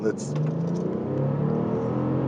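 A 2008 Bentley Continental GT Speed accelerating in sport mode, a steady, rising engine drone heard from inside the cabin, with a voice talking over it.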